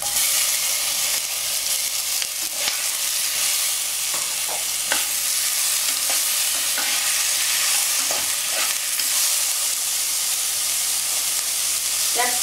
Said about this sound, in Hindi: अब राई चिपचिट होने के बाद प्याज को डालिए। साथ में टमाटर भी डालिए।